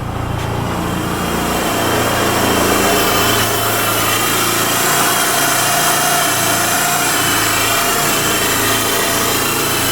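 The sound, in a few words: 1995 Eagle Summit Wagon engine running after fuel pump reinstall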